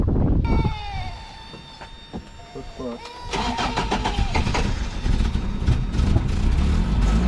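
A 1987 Toyota engine cranks with a whining starter, catches and settles into a steady running rumble, close by, with people talking over it.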